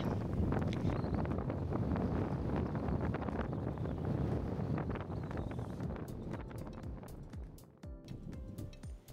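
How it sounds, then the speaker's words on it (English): Strong Mistral wind of up to 50 knots roars and buffets the microphone aboard a Fleming 85 yacht in the Mediterranean, a constant low rush with faint creaks and knocks surfacing near the end. "it's been a windy day with up to 50 knot winds"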